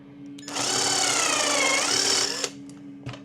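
A drill whines steadily for about two seconds while drilling pilot holes in a guitar, then stops, followed by a couple of sharp clicks.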